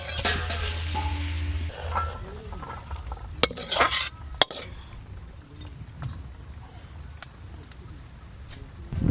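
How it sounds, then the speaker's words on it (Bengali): Snake gourd frying and being stirred in a pan for a mash, with a steady sizzle and repeated scraping and clattering stirs, loudest in the first few seconds and then settling into a quieter hiss. "একটু এভাবে চাড়িয়ে চাড়িয়ে দেবো তাড়াতাড়ি ভাজা হবে"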